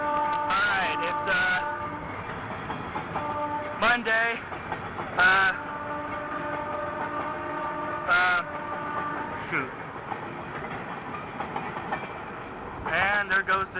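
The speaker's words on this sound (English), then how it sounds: "And there goes the train." A Toledo, Peoria and Western eastbound freight train rumbles past with steady mechanical noise and tonal horn-like blasts, while a person briefly speaks nearby.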